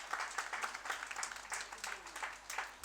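An audience applauds steadily, many hands clapping in a dense, even patter throughout.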